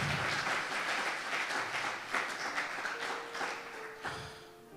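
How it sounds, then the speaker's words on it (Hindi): A church congregation applauds loudly, dense continuous clapping from many hands filling the room, with a brief tone rising near the end as the applause fades slightly. "जोरदार तालियां बजाएं"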